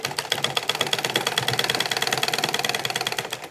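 A hand-cranked sewing machine stitches elastic into a salwar, its needle mechanism giving a fast, steady mechanical clatter close up for the whole stretch, with no voices.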